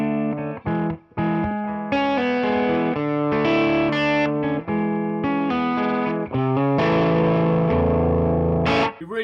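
Electric guitar played through a Two Rock Bloomfield Drive amp with the reverb turned up, a loud, sustained and slightly overdriven run of notes and chords ringing out alone.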